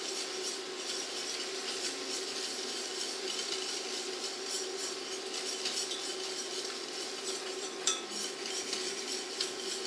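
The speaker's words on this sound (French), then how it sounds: "On mélange parfaitement le beurre." Butter is being stirred into a hot chocolate caramel on a still-warm cooktop. A utensil scrapes and rubs steadily around the pan close up, with a faint constant sizzle underneath and no talking.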